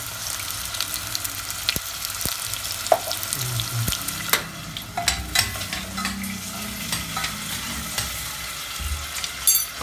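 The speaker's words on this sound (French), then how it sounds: "vous mettez les pommes de terre. Et un peu les frire un petit peu" Potatoes fry in a pan for a fish dolma dish, giving a steady close sizzle broken by irregular clatters and scrapes as they are stirred, with no voices.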